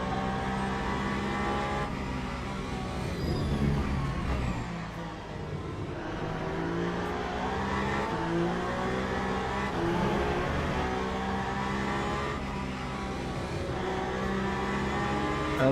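GT3 race cars in the Le Mans Ultimate sim racing game at Bahrain, their engines a steady, dense drone that holds close and loud throughout with slight shifts in pitch as the cars run together.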